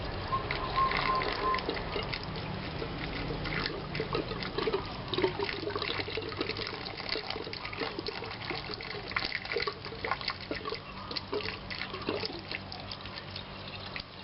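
Water trapped in a leaking underground water supply pipe drains out during a repair, trickling and splashing steadily with small irregular drips and gurgles at a moderate level throughout.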